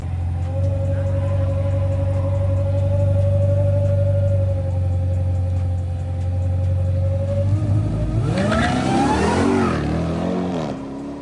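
A Dodge Durango Hellcat's engine during an index drag race, holding a steady droning tone for several seconds, then revving up sharply in rising sweeps before the note drops away, loud and close.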